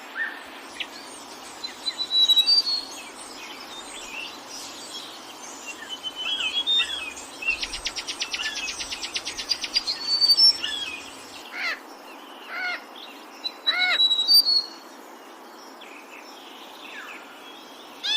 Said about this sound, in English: Their songs, ranging from the soft cooing of doves to the melodious trill of songbirds, intertwine to compose a masterpiece of natural music.